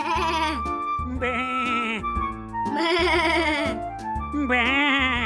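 A voice imitates a sheep bleating in a series of quavering, tremulous bleats over a musical backing, loud and close with brief gaps between calls.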